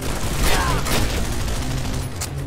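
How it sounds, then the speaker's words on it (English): Sustained battlefield gunfire in the PS2 version of Call of Duty: World at War, overlapping rifle and machine gun shots forming a steady roar with a few sharper cracks. "Covering fire!"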